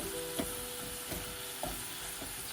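Garlic with parsley or cilantro sizzling in a hot pan, a steady fry hiss broken by several scraping stirs of a utensil at irregular intervals, close and fairly quiet.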